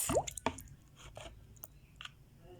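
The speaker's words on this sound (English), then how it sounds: "So now we will push an empty glass upside down into the water like this." An empty glass is pushed upside down into a bowl full of water, giving soft splashes, drips and squishy plops, quiet and close, in a few scattered bursts.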